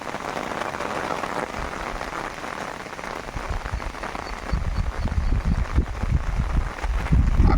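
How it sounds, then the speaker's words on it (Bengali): Light drizzling rain patters steadily outdoors in cool weather, with soft, dense drops and some heavier, closer taps near the end. "বাইরে যে বৃষ্টিটা হলো হচ্ছে এখনো ঝিরঝির করে বাইরে একটা ঠান্ডা ঠান্ডা পরিবেশ"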